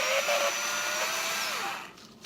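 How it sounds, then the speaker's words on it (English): Power drill spinning with a nail chucked in place of a bit for sanding, a steady motor whine with a pitch that sags and drops near the end as it winds down, loud and close with no talking. "I'm going to put my nail in my drill bit"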